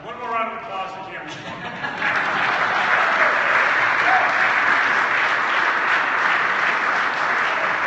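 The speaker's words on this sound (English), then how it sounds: "One more round of applause for Cameron." An audience at a company expansion event in downtown Richmond breaks into applause: a voice is heard briefly at the start, then dense, steady clapping from many people swells and carries on loudly to the end.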